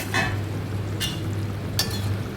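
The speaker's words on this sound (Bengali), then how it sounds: "দেখো ভালো করে নাড়াচাড়া করে একটু কষিয়ে নিচ্ছি এটাকে।" Paneer and capsicum being stirred in a pan, with a steady low sizzle and a few brief scraping, clinking spatula strokes spaced across the stretch.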